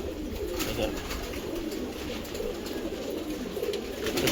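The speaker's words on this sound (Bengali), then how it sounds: "প্রবীণ একটা কবুতর ভিডার কবুতর মাদি" Racing pigeons coo in a loft, a steady murmur of low soft calls overlapping from several birds close by, with constant background noise and no speech.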